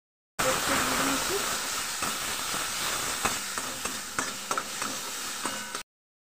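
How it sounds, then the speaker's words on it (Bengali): Cumin seeds and dried chilli with curry leaves and ground spices fry in oil with a steady close sizzle and hiss, punctuated by a few light taps and stirring sounds. "পাতা দিয়ে দিয়েছি, জিরে ফোড়ন দিয়েছি, শুকনো লঙ্কা ফোড়ন দিয়ে"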